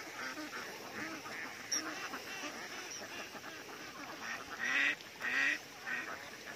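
Flock of ducks sheltering near a rice field, a chorus of nasal quacks and honks rising in bursts, louder calls toward the end over a steady background.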